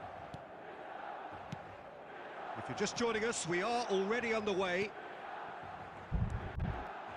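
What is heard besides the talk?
stadium crowd at San Siro in eFootball video game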